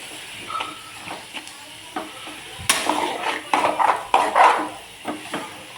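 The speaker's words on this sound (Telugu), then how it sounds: "బాగా వేగుతున్నాయి కదండి, చూడండి ఇక చక్కగా వేగుతుంది" Chopped tomatoes frying in a pan make a steady soft sizzle and hiss, broken by scraping stirs and clatter of a utensil, close and moderately loud with no talking.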